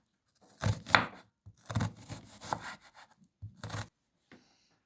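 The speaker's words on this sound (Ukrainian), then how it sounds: "Розрізуємо цибулинку опіл і ріжемо напівкільцями." A knife slices an onion into half rings, producing three or four close, crisp cutting strokes with short pauses between them, each a brief crunchy tear through the layers.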